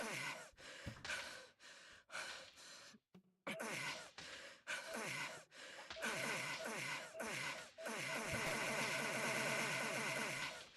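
Heavy, rhythmic breathing and heaving gasps, loud and close, repeating in strained bursts with a brief pause near the middle, then continuing in a steady, labored run to the end.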